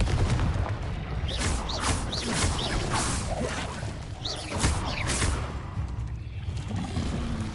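A Confringo spell cast in Hogwarts Legacy, heard as a string of loud fiery blasts and whooshing bursts over a constant rumbling game background, repeating several times across the stretch.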